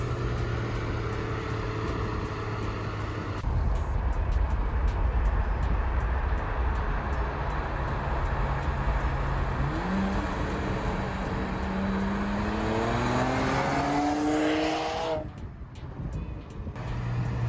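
A BMW 535xi with an N54 engine and custom quad exhaust drives by with a steady, loud exhaust drone that rises in pitch as it accelerates past, then drops away abruptly.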